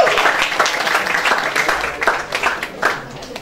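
A church congregation breaks into sustained applause during a service, a dense wash of many hands clapping at moderate distance that runs throughout and eases slightly toward the end.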